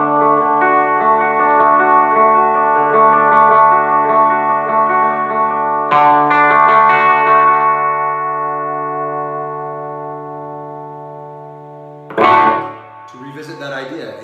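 An electric guitar with a DiMarzio Super Distortion pickup rings out with distorted, sustained chords, struck twice and left to fade slowly, followed by a brief spoken voice.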